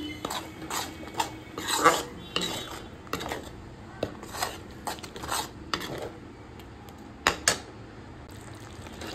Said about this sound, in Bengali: টক দইটা দিয়েও ভালোভাবে মশলার সাথে মিশিয়ে নিচ্ছি